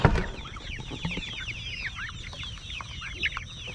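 Several chickens cluck and chatter together in a busy, continuous flock murmur, fairly close, with a brief clatter at the start.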